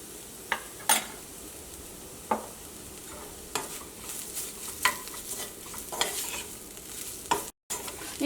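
Mushrooms with pepper and spice powders frying in a pan for a Kerala mushroom roast, stirred with a utensil that gives a series of distinct scrapes and clinks over a soft, steady sizzle.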